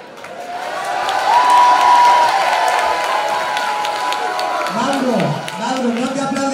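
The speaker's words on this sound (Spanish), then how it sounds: "Un fuerte aplauso." A television talent show audience applauds and cheers after a performance is announced, loud and sustained, while a host's voice and shouts rise over the crowd near the end.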